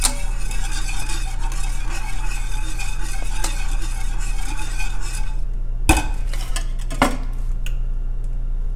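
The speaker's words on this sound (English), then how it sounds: "Sorry, whisking." Ice cream mixture for a no-egg vanilla recipe being whisked in a bowl, with fast continuous scraping and tinkling of the whisk over a steady low hum, close and loud, then a couple of sharp knocks near the end.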